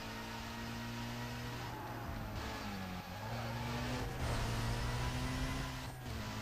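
A car engine drones steadily in the racing video game Need for Speed Most Wanted, its pitch rising and falling through shifts as the car speeds along, loud and continuous with no talking.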